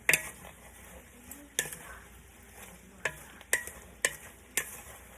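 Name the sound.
stirring seasoned food in a pot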